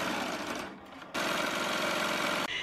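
Embroidery machine running at speed as it stitches names onto a baby onesie, a steady buzzing mechanical rattle with a brief slowdown partway before resuming loud and continuous.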